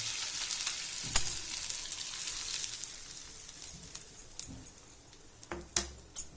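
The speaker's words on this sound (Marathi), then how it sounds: "यामध्ये मी हे गरम तेल घालते, जिरं, मोहरी आणि हे दोन हिरव्या मिरच्या, आलं लसूण ठेचून घेतलेलं आहे" Hot oil tempered with cumin, mustard seeds, two green chillies and crushed ginger-garlic, poured over a pea filling for rava idli, gives a soft sizzle with scattered sharp clicks and spatters, close and fairly quiet.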